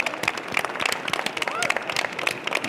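A live audience claps steadily at the finals of a cardiothoracic surgery resident competition, a dense crackle of many hands lasting a few seconds, fairly loud and even, with some background sound mixed in.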